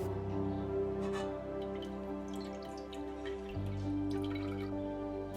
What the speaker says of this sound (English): Use a strainer to remove the dandelion flowers from the soaked water.